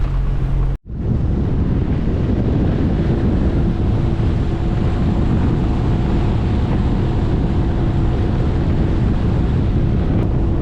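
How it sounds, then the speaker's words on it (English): Strong wind buffets the microphone on a small boat with a constant low roar, with the wash of choppy water and a faint outboard engine hum underneath. "It's windy!"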